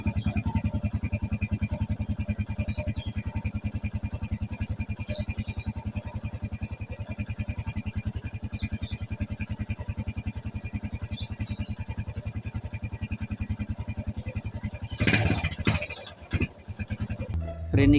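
A motorcycle engine idles close by, its steady rapid pulsing carrying an abnormal rattle from a worn timing chain guide, with handling knocks and bumps near the end.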